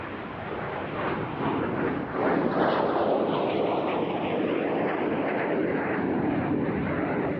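A MiG-15 jet flies past at the Russian Air Force 100th anniversary airshow, its engine a loud, steady, broad roar that swells slightly a couple of seconds in and holds for the rest of the pass.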